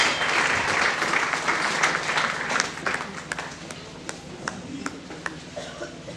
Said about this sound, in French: Acclamez très fort au nom de Jésus-Christ